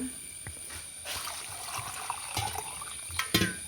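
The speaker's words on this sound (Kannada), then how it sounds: "ಪ್ಯೂರ್ ನೀರು ಬರುವವರೆಗೆ ಇದನ್ನು ಸಮ ತೊಳ್ಕೊಳಕ" Cut potatoes for french fries being washed by hand in water, gentle splashing and sloshing with a few sharper sloshes and clunks near the end, close and fairly quiet.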